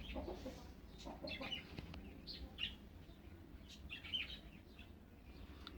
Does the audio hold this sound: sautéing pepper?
no